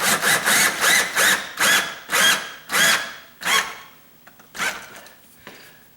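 A screw is driven through 5/8 sheetrock into a wooden stud while a grab bar is installed. A power driver gives a rapid series of loud, close, rhythmic bursts that slow and fade toward the end.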